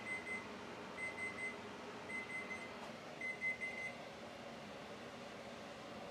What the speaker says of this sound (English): the timer for our broccoli